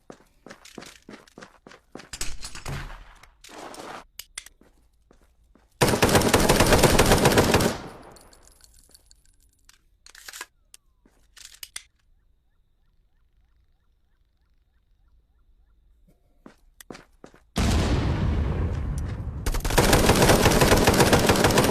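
Bursts of rapid automatic gunfire in a VR first-person shooter, loud dense stretches separated by quieter gaps with scattered footsteps and smaller clicks and knocks.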